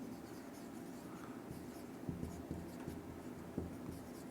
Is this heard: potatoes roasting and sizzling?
no